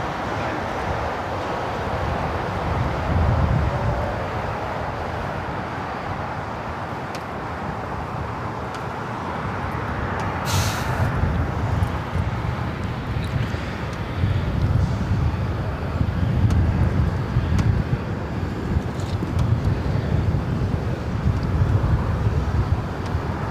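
A Lufthansa Airbus A380 takes off from LAX bound for Munich, its engines a broad, steady roar swelling and rumbling in the distance under wind noise, with no talk.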